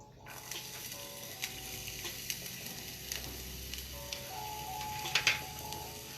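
Onions frying in oil in a hot pan, giving a steady, soft sizzle with light scraping and clinks from stirring, close but fairly quiet, with a faint mechanical hum underneath and no speech.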